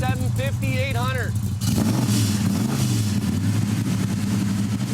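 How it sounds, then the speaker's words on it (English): A restored muscle car engine idles at a steady 750 to 800 RPM in a garage, a continuous low rumble under a voice, louder and steadier after the first second and a half. "See if it'll start. Just hold it at a steady RPM."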